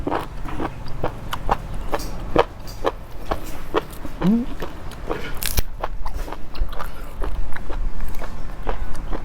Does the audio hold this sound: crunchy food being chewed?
yes